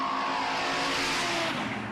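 A green Cortina and a Ute accelerate side by side in a roll race in Adelaide, the loud, close engine roar building with faint tyre squeal and no talk.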